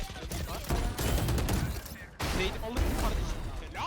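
Rapid gunfire in the Valorant video game, two dense bursts of automatic shots split by a brief pause, loud and close, with a voice talking over the shooting.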